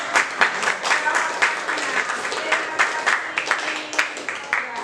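Audience applause at a teachers' poetry training session in a school, a continuous patter of many hands clapping with distinct sharper claps scattered throughout, fairly even in loudness.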